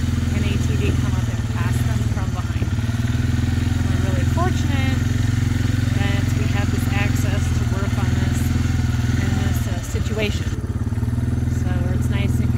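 An ATV engine drones and revs close by on a private horse trail, a loud continuous motor rumble lasting throughout beneath a person talking.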